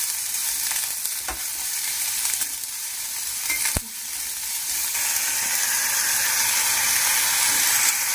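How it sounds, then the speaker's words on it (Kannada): Loud, dense frying in oil for fried rice, a continuous crackling sizzle heard close up with a few sharp stirring knocks early on, growing slightly brighter toward the end. "ಎಣ್ಣೆನಲ್ಲೇ ಅದು ಫ್ರೈ ಆದರೆ ತಿನ್ನೋದು ಚೆನ್ನಾಗಿರುತ್ತೆ"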